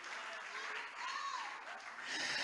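A church congregation claps during an evangelical sermon, with soft, muffled, somewhat distant applause that swells and eases over a few seconds.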